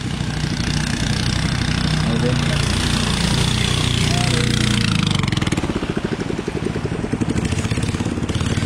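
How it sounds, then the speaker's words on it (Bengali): A boat engine chugs steadily on the low Sangu river, a loud rhythmic drone that roughens and grows choppier partway through. "একটা ওখান থেকে নৌকা আসতেছে"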